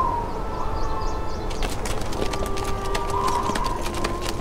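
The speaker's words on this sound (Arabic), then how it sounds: "أحضروا حصان السيد تورغوت" Horse hooves clip-clop as a horse is led up in an Ottoman-era historical drama. The steps come as a string of sharp, fairly close knocks over a steady background hum, with a siren-like tone faintly present; no one speaks.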